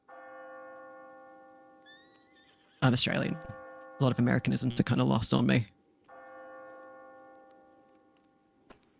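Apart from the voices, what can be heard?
church bells ringing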